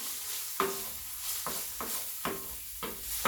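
Chopped green peppers cook in a pan, with a low steady sizzle broken by four soft scraping stirs spaced evenly, close and quiet.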